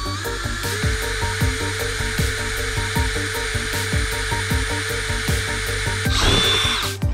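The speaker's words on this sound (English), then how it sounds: "the first job is drilling a hole" A power drill bores a hole in a van's metal roof during a Maxx Air fan installation, with a steady high whine and rhythmic chattering pulses, growing louder and rougher near the end as the bit breaks through.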